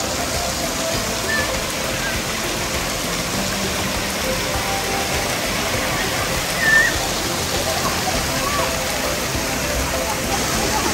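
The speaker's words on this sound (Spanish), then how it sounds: "Y ahora ese tanque, cuando se llene, van a ver cómo cae todo el agua" Water pours and splashes continuously at a water park, a dense rushing wash like heavy rain on surfaces, with faint voices and a brief squeal in the background.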